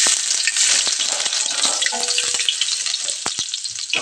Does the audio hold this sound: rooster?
no